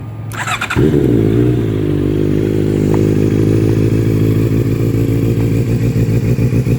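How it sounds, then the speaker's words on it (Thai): A 2019 Honda CBR650R sport motorcycle engine starts and settles into a steady, throaty idle, running loud and close with a constant low rumble. "ฟังเสียงเครื่องยนต์ครับ"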